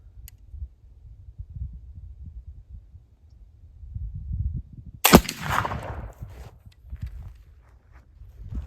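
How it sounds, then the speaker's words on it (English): One loud, sharp flintlock shot using wet-milled black powder bursts out halfway through, with a short decaying tail. Soft rustling and low handling noise come before and after it. "here's shot number 3 with the wet mill powder"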